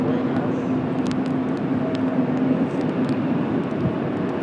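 An Emirates Airbus A380 bound for Dubai moves at Washington Dulles airport on a cloudy day, a steady broad engine rumble with a faint tonal hum, constant and moderately loud.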